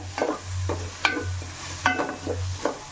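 Crushed ginger, garlic and green chilies sautéing in a pan after the onions have browned, for a Kerala-style chicken curry with coconut milk. Close, soft sizzling with several sharp scraping stirs of a spoon against the pan and a steady low hum behind.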